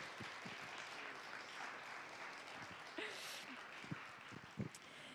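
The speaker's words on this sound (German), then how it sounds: "Können wir mal klatschen" An audience claps along at a birthday celebration, steady applause with a few sharper louder claps near the end, voices faintly mixed in.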